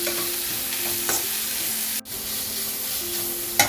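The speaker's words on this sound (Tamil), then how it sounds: "இது ரெண்டுத்தையும் கொஞ்சம் லைட்டாக ஃப்ரை பண்ணிக்கலாம்." Onion and garlic stir-fry in a pan for schezwan noodles, with a steady close sizzle, a sharp clack of the utensil at the pan partway through and light scraping.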